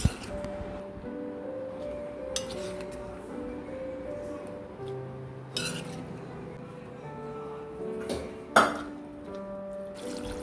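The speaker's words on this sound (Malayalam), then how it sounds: "തീയലിന് ആവശ്യമായിട്ടുള്ള വെള്ളം കൂടെ ചേർത്ത് കൊടുക്കാം" Water is poured into a clay pot holding prawn theeyal, a quiet splashing pour with a few sharp clinks of the pot and utensils.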